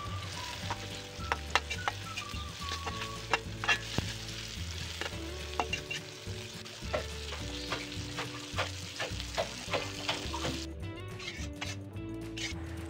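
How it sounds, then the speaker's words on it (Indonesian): Chili, tomato, garlic and shrimp paste fry and sizzle in a pan, with a steady crackling hiss broken by frequent clinks and scrapes of a utensil stirring, continuous and close. "Goreng sampai layu, kemudian saya baru masukkan terasinya"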